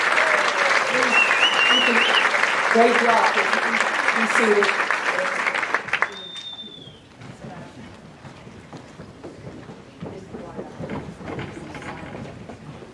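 Loud applause from an audience at an academic awards assembly fills the first six seconds, then cuts off abruptly; afterwards a speaker talks over a quiet, murmuring room.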